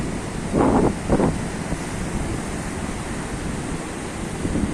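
Strong wind roars over breaking ocean waves on a shore after a cyclone, a loud continuous rushing surf with heavy microphone buffeting and two brief gusts early on, no voices.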